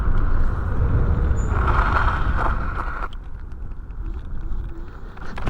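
A Varla Pegasus dual-motor electric scooter rattles over rough, bumpy ground at top speed, with loud rumbling and clatter for the first three seconds, then quieter road noise and scattered knocks.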